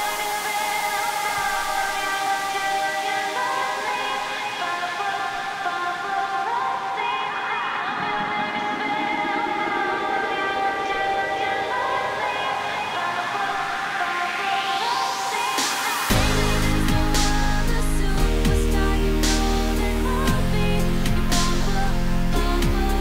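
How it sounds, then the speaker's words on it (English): A remix build and drop made in Logic: layered synths climb under a rising sweep for about sixteen seconds, then cut into a loud, dense drop with thumping low bass and drums, all music and no voice. "Here's a build and drop real quick."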